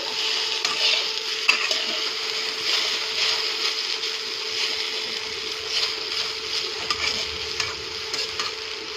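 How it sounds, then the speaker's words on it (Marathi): Coriander leaves sautéed and stirred in a pan for dahi bhindi, a steady loud sizzle with repeated scraping and clicking spatula strokes throughout and no talk. "आपल्याला अशी कोथंबीर परतून द्यायची आता"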